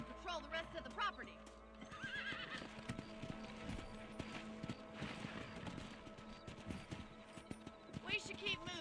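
A horse in the Red Dead Redemption video game neighs loudly at the start and again near the end, with hoof clip-clops and game sound effects between, under a voice.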